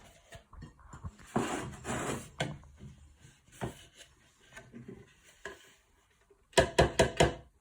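A bowl of weighed brown sugar is tapped on a surface: scattered soft knocks and rustles, then a quick cluster of four or five sharp, close taps near the end.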